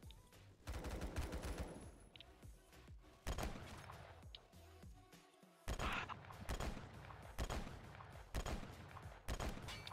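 Loud bursts of gunfire in the Roblox game Phantom Forces, repeated volleys of sharp shots separated by short pauses, with one brief silent gap midway.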